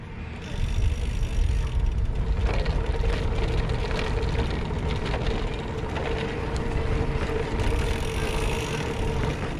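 Specialized Turbo Vado 5.0 e-bike with 1.85-inch tires rolling over cobblestones: continuous close rattling and rumbling vibration with a dense, rough texture throughout, no talking.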